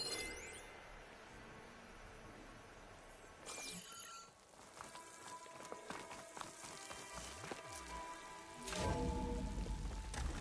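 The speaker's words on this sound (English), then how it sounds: "Rain." Rain falls steadily as a storm approaches, a continuous broadband patter that swells louder toward the end, with occasional sharper drips and knocks mixed in.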